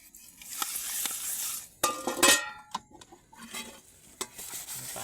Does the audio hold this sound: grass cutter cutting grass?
no